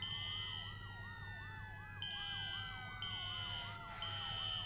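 Fire engine siren wailing in a steady repeating rise-and-fall over a low engine rumble, with a second higher warbling tone cutting in and out, loud and close throughout.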